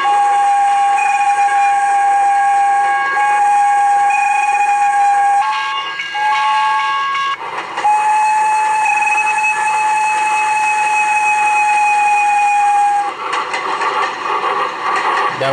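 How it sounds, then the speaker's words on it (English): A steam train whistle blows loud and close in long sustained tones with a few brief breaks and pitch shifts, continuing for about fifteen seconds with no talk. "The reason why Thomas is blowing a whistle because it's important things to do."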